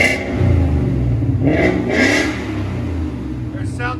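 A Ford Mustang GT 5.0 Coyote V8 with Flowmaster 40 Series exhaust revving nearby, deep rumbling bursts rising and falling under excited talk from onlookers.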